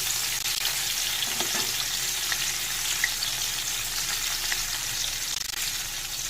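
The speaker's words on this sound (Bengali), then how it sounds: "আলু কপি আর আলুগুলো লাল করে ভালো করে ভেজে নিয়েছি" Potatoes and cauliflower frying in a pan produce a steady, moderately quiet sizzle with occasional light stirring sounds, constant and close, with no voices.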